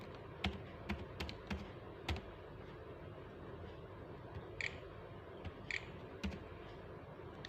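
Computer keyboard typing as variable names are entered in SPSS, a quiet run of separate key taps with a few sharper clicks spread over several seconds and no voices.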